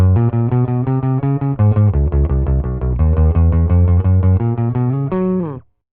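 A Fender Precision bass plays a run of plucked notes through a simulated Ampeg B15N amp set to a solid, hornless bass tone, each note clear and rhythmic, ending with a final sustained note that fades out; no talking.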